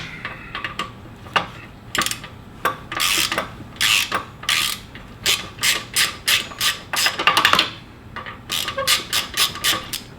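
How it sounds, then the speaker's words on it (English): Allen bolts are worked loose on a WR250R motorcycle, with a string of short ratcheting clicks and rasping bursts in uneven rhythm, close and fairly loud, with no voices. "5mm Allen bolts. Super easy to take off. Just take those bolts loose."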